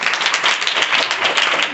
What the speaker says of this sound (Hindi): चलिए ताली डाल दीजिए।